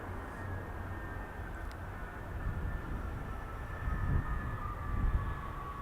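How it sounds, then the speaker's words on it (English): Ryanair Boeing 737 MAX 8 arriving from Faro at Birmingham Airport, a distant low jet rumble that stays steady and swells slightly as it rolls by. "Ryanair 737 MAX 8 in from Faro."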